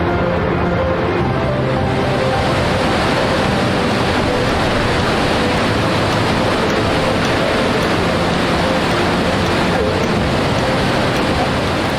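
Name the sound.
Iguazu Falls waterfall, huge volume of falling water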